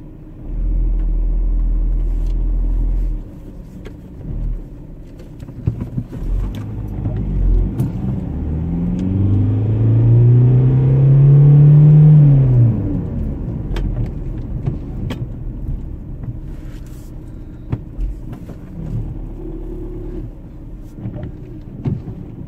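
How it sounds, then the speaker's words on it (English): A delivery truck manoeuvres and reverses on a narrow country road, its engine building from a low rumble to a strained, rising growl at moderate distance before settling back, with a brief heavy low thud at the start. "there's a delivery truck."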